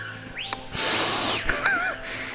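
Screeching bird calls in the kayaking VR game Kayak VR: Mirage, with a rising whistle and wavering warbles over a loud, steady airy wash, close and prominent.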